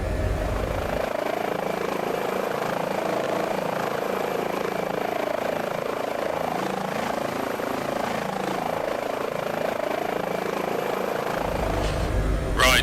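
Airbus H145 helicopter in Microsoft Flight Simulator, turbine and rotor running steadily at loud, continuous level throughout, with a brief rising whine at the very end.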